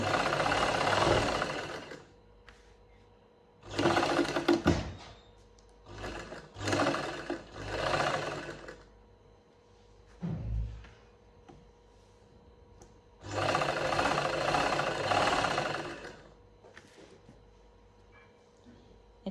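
Sewing machine stitching a lined kameez shirt in several separate bursts of rapid whirring, some short and some long, with quiet pauses between runs.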